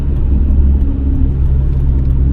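Loud, steady engine and exhaust drone from a BMW E36 at a constant 3500 rpm, a deep rumbling roar with road noise throughout, no talking.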